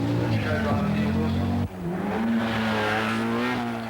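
A VW Golf GTI Group A rally car at the 1984 Lombard RAC Rally revs hard and crisply at close range, pitch dipping briefly at a gear change then climbing again, with crowd and commentary noise underneath.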